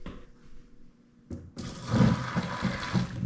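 Hot water and vinegar, just steamed in a cup in a microwave, poured out into a sink: a quiet start, then a sudden loud rush of splashing, gurgling liquid that continues to the end.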